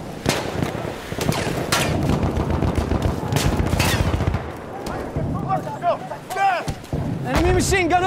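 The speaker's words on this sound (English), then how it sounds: "Enemy machine gun over there!" Dense gunfire and explosions from a Battlefield 1 battle, with bursts of rapid shots, heavy booms and a shouted voice over the chaotic din of the fight.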